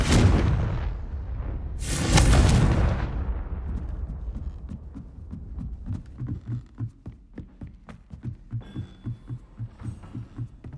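A Confringo spell explosion in the video game Hogwarts Legacy: a deep blast and a second booming burst, then a fading rumble that settles into a soft rhythmic throb, with no talk.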